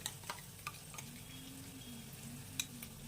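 Gadal leaf paste frying in oil in a pan while being stirred, a low steady sizzle with a few sharp spoon clicks against the pan, fairly faint and without talk.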